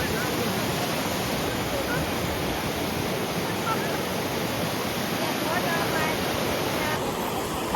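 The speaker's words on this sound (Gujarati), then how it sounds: "પાણીનું જોર એટલું બધું છે" A strong, rushing river current roars loud and close, a dense unbroken wash of water noise that never lets up.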